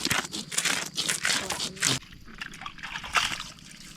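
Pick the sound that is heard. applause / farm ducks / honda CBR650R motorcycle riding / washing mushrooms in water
washing mushrooms in water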